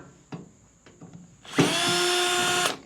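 A power drill backs out a side screw on a Traeger grill, with a few soft handling knocks before a steady, high whining spin of just over a second that then stops.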